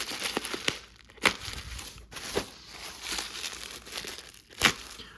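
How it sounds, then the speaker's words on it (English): Packing paper crumpled by hand while unboxing a six-pack of 1/64 diecast cars, a few sharp crackling bursts among softer rustling, close and fairly quiet with no talk. "You can see all the packing paper that I'm going to reuse when I eventually sell things."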